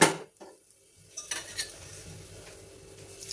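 Basmati rice stirred with a metal spoon in a pressure cooker for vegetable biryani, giving a loud scrape at the start, then scattered utensil clinks and scraping over a faint sizzle. No one speaks.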